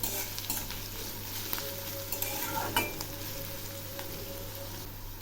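Chopped onion frying with black cumin in oil, a steady close sizzle with a spatula scraping and stirring through it and the odd clink against the pan, no talking.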